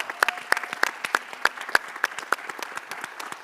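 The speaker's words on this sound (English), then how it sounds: "can we give our amazing panelists a round of applause?" Panelists at a discussion on Black liberation in Arizona receive audience applause, a moderate crowd clapping with several distinct, sharp claps close by ringing out in a quick, fairly regular rhythm.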